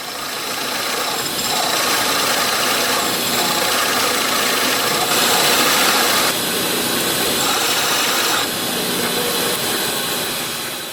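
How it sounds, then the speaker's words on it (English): A loud, continuous whine and drone of a power drill press boring holes into a wooden box lid, with slight shifts in pitch as it cuts. "So I'll bring this over to the drill press and we'll start drilling."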